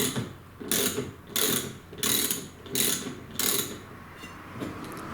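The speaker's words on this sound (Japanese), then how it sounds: "このラチェットの音気持ちいいですよね。" Ratchet wrench clicking in quick bursts during old-vehicle DIY work on a walk-through van, five or so rhythmic rounds of sharp pawl clicks separated by brief pauses, close and clear.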